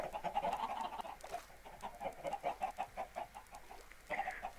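Chickens in Minecraft cluck steadily in a rapid, rhythmic series of short notes, moderately close, with no talking over them.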